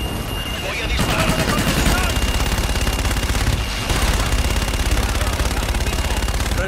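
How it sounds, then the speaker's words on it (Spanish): Sustained rapid gunfire in Call of Duty Infinite Warfare, loud and continuous automatic bursts filling the scene with a brief lull midway, with combat noise around it. "Voy a disparar."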